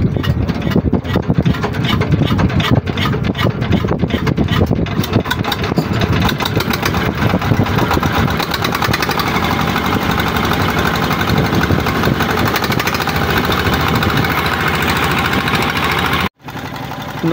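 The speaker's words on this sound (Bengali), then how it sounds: "আমাদের পূর্ব নির্ধারিত ইঞ্জিন চালিত নৌকাটি যমুনা নদীর কালীতলা ঘাটে এসে সকাল সকাল পৌঁছেছে।" A motorized boat engine runs steadily and loudly on the Jamuna River in monsoon season, a close, continuous mechanical drone with a brief cutout near the end.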